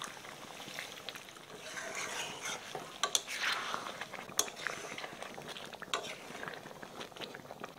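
A spatula stirs chicken in a black pepper masala in a pan over medium heat, scraping and clinking in an uneven rhythm over a soft, steady sizzle, close by with no talking.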